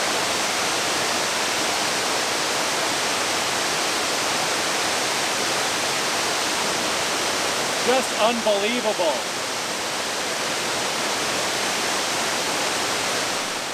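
Steady broadband rush of an upper waterfall on a hiking trail, a constant loud roar filling the whole stretch, with a brief spoken exclamation about midway over the falling water.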